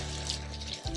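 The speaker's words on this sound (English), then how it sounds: "we're going to wet the top of our kitchen towel with some cold water" Cold water runs steadily from a kitchen tap onto a kitchen towel, a continuous close splashing hiss that dips briefly near the end and then resumes.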